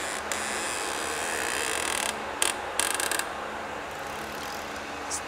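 A ratchet tightens cylinder head bolts on an ATV engine in a crisscross sequence, with faint, sparse clicking over steady background hiss, plus a couple of brief louder mechanical bursts near the middle.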